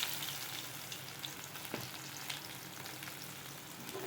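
Onion sautéing in oil after mustard seeds, urad dal and cumin have spluttered, giving a continuous moderate sizzle with a few faint clicks and one brief scrape, no voices.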